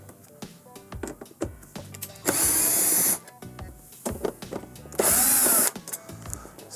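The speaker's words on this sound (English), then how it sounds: "we're gonna remove the remaining 6 T20 screws" A power driver spins out T20 screws from a Samsung dishwasher door in two loud whirring bursts, separated by clattering handling and tapping noises nearby.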